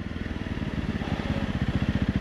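Honda CRF 300 Rally motorcycle riding on sand, its single-cylinder engine thumping in a steady, fast pulsing rhythm, close and fairly loud throughout, rising slightly in intensity toward the end.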